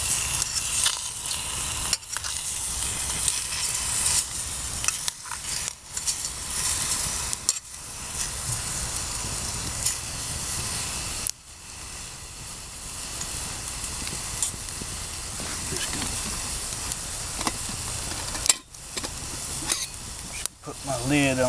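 Sausage cooks over a campfire, a steady sizzling hiss with brief interruptions and occasional scraping or handling sounds, continuing at moderate volume through most of the stretch.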